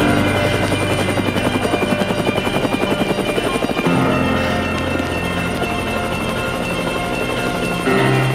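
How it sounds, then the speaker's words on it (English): An open-door helicopter over downtown Manhattan thunders steadily nearby, its rotor chopping in a fast rhythmic pulse under a loud engine whine, sustained throughout with no voices. "It all started with an open-door helicopter ride over downtown Manhattan."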